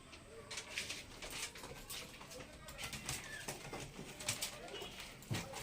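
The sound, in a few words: pigeons being given water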